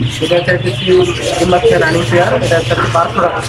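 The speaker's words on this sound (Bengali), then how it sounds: "এখানে এক জোড়া ডায়মন্ড দেখা যাচ্ছে ভাই" A pair of diamond doves in a bird shop give soft chirps and coos, close by and mixed with other birds and steady background noise while people talk.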